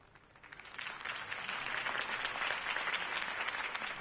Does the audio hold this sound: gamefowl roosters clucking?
no